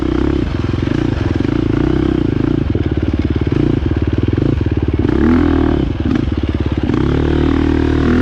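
A 2023 KTM 350 XCF dirt bike rides a loose dirt and rock trail at an MX park, its engine roaring steadily loud and close with rhythmic revving pulses and rattling clatter from the terrain.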